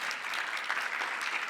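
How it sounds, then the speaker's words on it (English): An audience at an anniversary health symposium gives a round of applause, dense steady clapping from many hands filling the room at an even level throughout. "We could give them a clap, a round of applause."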